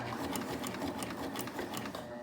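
A BabyLock Triumph sewing machine fitted with an 8mm binder stitches continuously at a steady, close rhythmic hum that runs through the whole short stretch.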